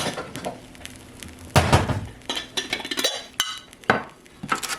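A bowl is pulled out from among stacked dishes, with loud close clatter and clinks of ceramic and cutlery knocking together in several bursts.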